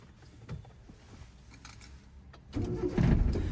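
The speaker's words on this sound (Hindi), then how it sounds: "अब इंजन ऑन करो।" A car engine cranks and catches in a driving lesson, a few faint clicks and rustles giving way to a louder rumbling start that settles into a steady idle, close by.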